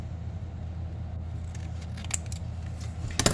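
Scissors snipping paper for a junk journal cover, several quick close cuts in the second half over a constant low background hum.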